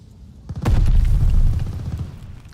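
A grenade detonates in the shooter game Call of Duty: Vanguard as a sudden loud boom, followed by a rumbling low roar that lasts a couple of seconds.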